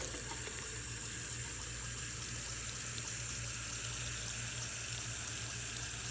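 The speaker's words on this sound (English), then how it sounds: "I'm just gonna put warm water on top" Warm water pours steadily from a kettle onto dried mushrooms in a glass French press, a constant close rushing splash with no breaks and no talk.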